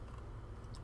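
A single soft mouse click on undo in BERNINA V8 embroidery software, faint and brief against a low background hum.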